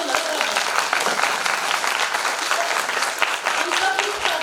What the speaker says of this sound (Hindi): अशोक जी के लिए भी तालियां हो जाए